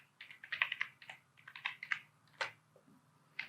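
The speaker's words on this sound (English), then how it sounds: "let me just type it here" Keys clack on a computer keyboard up close in a quiet room, in irregular bursts of quick keystrokes separated by short pauses, with no voices.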